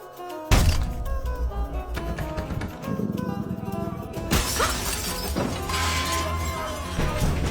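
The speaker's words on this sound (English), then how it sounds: "the sound of shattering glass suddenly came from behind her" Glass shatters with a sudden loud crash, followed by a busy, cluttered stretch of background sound and a second burst of breaking and clattering near the end.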